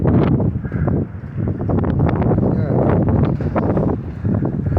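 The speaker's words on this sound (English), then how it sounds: "the wind is blowing about 40 right now" Strong gusty wind in a Southern California dust storm roars and buffets the microphone, loud and continuous with fluctuating surges and rustling.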